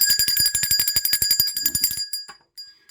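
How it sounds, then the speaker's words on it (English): A bicycle-style bell trills rapidly and loudly for about two seconds, then stops, leaving a few faint metallic rings afterward. "Let's ring the bell for that."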